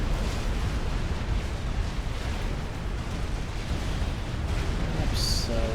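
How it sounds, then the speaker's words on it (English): Sustained roaring rumble of the death ray laser firing in Supreme Commander, a dense continuous blast that holds steady for several seconds, with a brief high-pitched tone near the end. "That laser beam, the death ray, has started firing"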